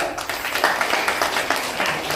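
Applause at a government school's 78th Independence Day celebration, a short patter of crowd clapping at moderate distance, steady and lively, with a voice faintly underneath.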